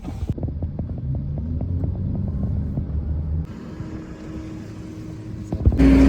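A tow truck drives along in the Australian outback, its engine a steady, loud low rumble and hum throughout, with a brief rattling clatter at the start and a louder surge of noise just before the end.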